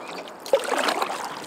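A kayak sets off on Loch Lomond, Scotland, with a soft splash of a paddle entering the water and a gentle trickle, close by over a steady outdoor wash.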